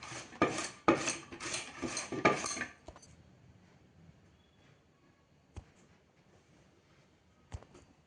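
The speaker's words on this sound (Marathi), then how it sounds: "बटाटा आपण मोठ्या किसणीने किसणार आहोत, मोठ्या भोकवाल्या, बारीक किसणीने किसायचा नाही." A potato is rubbed hard against the large holes of a coarse metal grater, making a burst of rapid rasping scrapes that stop after a few seconds, followed by a couple of faint clicks.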